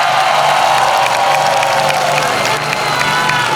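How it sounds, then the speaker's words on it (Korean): A large outdoor crowd at a political rally in Daejeon cheers and applauds steadily, a dense wash of clapping and shouts sustained throughout at a close, loud level. "우리 송준호 선수에게 뜨거운 동감의 박수 한번 더 부탁드립니다"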